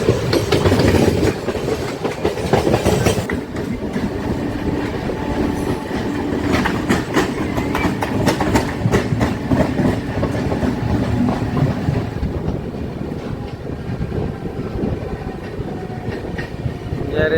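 A local train runs on a parallel track beside a superfast express, its wagons giving a steady close rumble and clickety-clack of wheels over rail joints throughout, loud and continuous with no speech.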